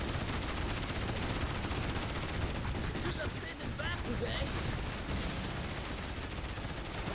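Early-game battle in the Rise of the Reds strategy game, with a Kodiak tank in the fight: a dense, continuous wash of rapid gunfire and blasts that stays loud and busy throughout.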